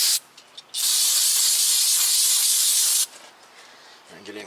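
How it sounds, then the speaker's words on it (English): Brake cleaner shoots from an aerosol can onto a cloth in one loud, sustained hiss lasting over two seconds, close to the microphone, framed by quieter handling noise before and after. "Spray some brake clean on the cloth."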